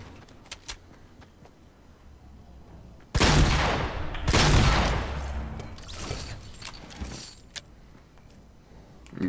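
Gunfire from the mobile version of the game Fortnite: a sudden loud burst of shots, then a second dense volley, trailing off into scattered quieter pops against a low background.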